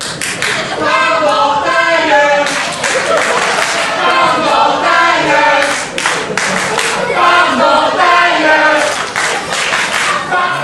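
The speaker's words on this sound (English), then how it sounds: "Crowd just jeering Jeff Fury" Wrestling crowd at a live pro wrestling event jeering, a loud sustained roar of boos and shouts from a packed audience, rising and falling in waves throughout, with some clapping mixed in.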